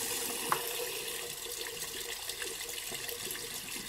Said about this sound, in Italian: Facciamo scorrere l'acqua.